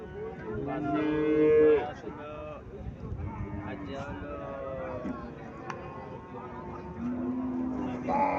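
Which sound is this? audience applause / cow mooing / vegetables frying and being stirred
cow mooing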